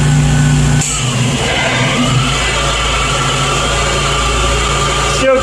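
A Jeep engine revved to about 2,000 RPM with the air conditioning running, a steady loud mechanical drone that holds throughout after a brief higher whine at the start.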